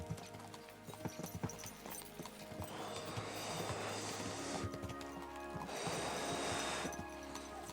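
Horses trot in Kingdom Come: Deliverance II, a steady rhythmic clip-clop of hooves close by, joined by swelling rushing noise in two bursts.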